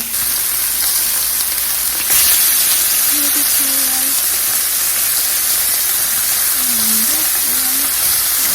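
A burger frying in a hot pan, giving a steady loud sizzle and hiss that runs continuously under faint background noise, with a few soft tonal squeaks.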